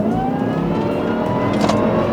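A 2006 Jaguar S-Type R with a supercharged V8 accelerates hard, its engine note climbing steadily in a loud, continuous roar with a whining edge.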